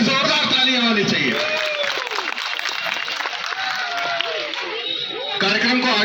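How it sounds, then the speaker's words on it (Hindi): Audience applause after a dance performance at a Republic Day program, steady clapping from a crowd with a voice speaking over it for much of the time. "इस बात के लिए इनकी जोरदार तालियां होनी चाहिए।"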